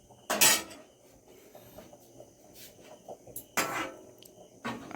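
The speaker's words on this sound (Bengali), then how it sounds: "আর মা এখন রান্না করছে।" Pots and dishes clatter and clink faintly in a home kitchen as a mother cooks during a power cut, a few short bursts of metal clatter against quiet room noise.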